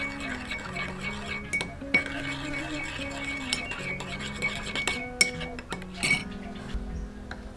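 Spoon stirring a pork marinade with soy sauce in a dish, light clinks and scraping of utensil against the dish, quiet and close, with some faint background sounds.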